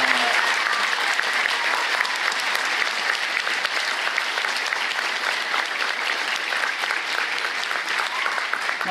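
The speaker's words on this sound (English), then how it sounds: "Let's have a big round of applause for our panelists." Sustained audience applause for a panel at PAX Unplugged 2018, dense steady clapping from a large crowd filling the room throughout, fairly loud and continuous with no talk over it.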